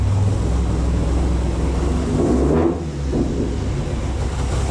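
A 3.7 V6 engine in a Ford Mustang GT500-style car idles right after starting, a steady loud rumble close by that dips briefly partway through and then settles back to an even idle.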